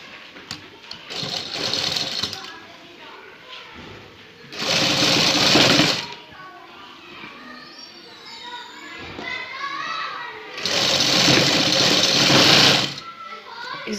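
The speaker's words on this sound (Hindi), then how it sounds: "फोल्ड करके इसके ऊपर सिलाई लगाएंगे" A sewing machine running in three loud bursts of rapid stitching along folded piping on a neckline, with quieter gaps between runs where a voice talks.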